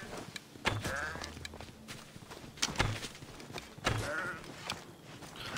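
Goats bleat in Assassin's Creed Odyssey, several short wavering cries spaced across the scene, close by and mixed with footsteps and other game sounds.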